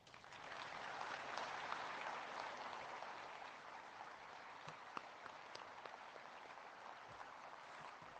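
Sustained applause from a large crowd at the National Veterans Day Observance at Arlington National Cemetery, a dense wash of clapping that holds steady for several seconds, heard at a distance.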